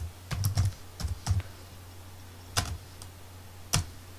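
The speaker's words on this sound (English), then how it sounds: "So in terminal we will type Python 3" Keystrokes on a computer keyboard while entering a command in a terminal, a few quick bursts of clicks separated by pauses, close and fairly quiet, with a low steady hum underneath.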